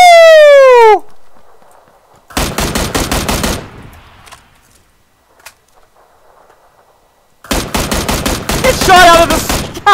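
Loud automatic rifle bursts in PUBG: Battlegrounds fire in two long rattling volleys separated by a quiet gap, after a short descending whistle at the start.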